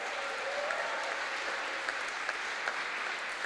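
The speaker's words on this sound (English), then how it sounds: "Please still do give a warm round of applause to runner-up Dean Gessie" Steady, dense applause from an audience at a literary awards ceremony, filling the whole stretch at an even, moderate level with a few sharper claps standing out.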